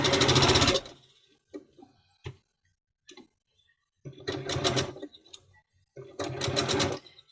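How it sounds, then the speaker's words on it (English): Sewing machine stitching a quarter-inch seam in short close bursts, a sharp run at the start and two longer runs later, separated by quiet gaps with light clicks and handling noises. "we're just basically going to sew the seam in here, 1/4 inch seam"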